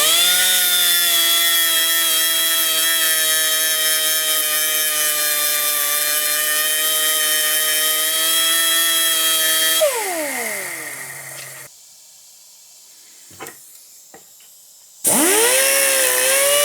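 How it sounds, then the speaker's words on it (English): Angle grinder grinding a rivet on saw chain, a loud, close, sustained whine that winds down, goes nearly silent with a few small knocks, then spins back up sharply. "I need to grind this rivet right here. So I'm just gonna hold this carefully and just hit it with this grinder."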